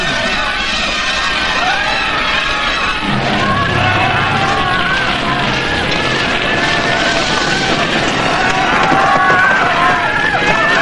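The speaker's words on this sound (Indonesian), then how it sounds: "ia melihat asap mulai mengepul dan jerit tangis di kejauhan terdengar" Distant crowd screaming and wailing rises over a busy background of shouts and murmuring voices, with the frantic cries carrying on steadily throughout.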